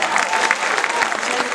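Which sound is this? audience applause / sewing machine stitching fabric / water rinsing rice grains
audience applause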